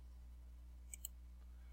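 Two quick, faint computer mouse clicks, close together, on a quiet background with a low steady hum while a website builder is used.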